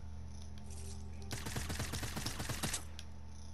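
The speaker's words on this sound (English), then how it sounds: "somebody shot him from the east" Rapid automatic gunfire in a shooter video game, a fast burst of roughly a dozen sharp shots lasting just over a second, rising out of a quiet background hum.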